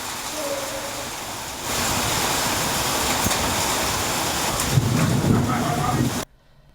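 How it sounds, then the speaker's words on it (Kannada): Heavy rain pours down in Gadag district as a dense, steady hiss with gusty wind noise hitting the microphone, growing louder after a couple of seconds and then cutting off abruptly. "ಗದಗ ಜಿಲ್ಲೆಯಲ್ಲೂ ಕೂಡ ಭಾರಿ ಮಳೆಯಾಗಿದೆ"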